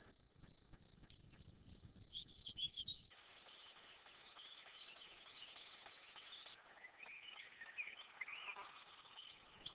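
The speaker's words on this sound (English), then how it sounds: "The warm forest steppe is also home to countless insect species." Insects chirp in warm forest steppe among limestone cliffs, with a rapid, pulsing, high-pitched trill repeating for the first few seconds. After that comes a fainter, continuous hiss of many insects in the background.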